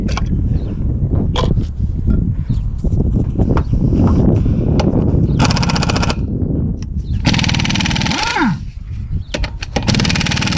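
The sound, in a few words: removing wheel of 2003 Chevrolet Impala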